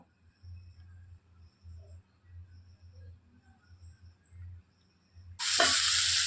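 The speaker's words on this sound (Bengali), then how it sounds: "তারপর পটলগুলোকে একটু গোল্ডেন ব্রাউন করে ভেজে নেব" Pieces of pointed gourd (potol) seasoned with salt and turmeric drop into hot oil. After several quiet, rhythmic low thumps, a sudden loud, close sizzle bursts out at the end.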